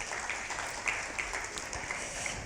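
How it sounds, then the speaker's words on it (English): Audience applause fills a hall at a business awards luncheon, a steady wash of many hands clapping at moderate volume throughout, with no voices on top. "please give them a round of applause"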